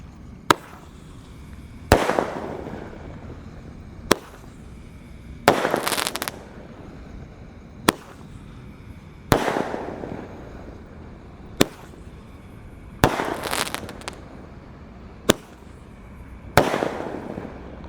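A 0.8-inch, five-shot Roman candle fires at night, giving sharp, loud pops at evenly spaced intervals, each followed by a brief hissing, crackling burst, with quiet gaps between them.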